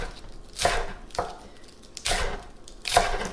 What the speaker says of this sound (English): You can chop them